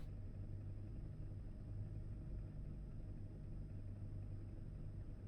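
Kenworth truck in American Truck Simulator gives a steady low engine rumble with a constant drone while driving, moderately loud and unbroken, with no talk over it.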